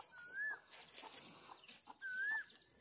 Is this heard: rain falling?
no